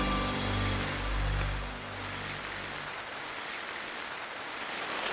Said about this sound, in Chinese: 大雨真的是， 这个雨有点突然啊。